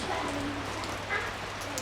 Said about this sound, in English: a raining day